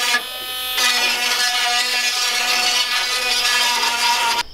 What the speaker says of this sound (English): So we're just gonna Dremel all of them out